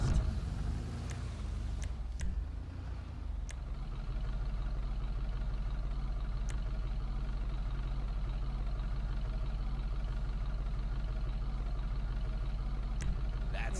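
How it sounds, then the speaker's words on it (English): A lowrider car idles in GTA 5, its exhaust giving off a steady low rumble that holds evenly for over ten seconds at moderate volume. A few faint clicks sit on top, with no speech. "There's your exhaust."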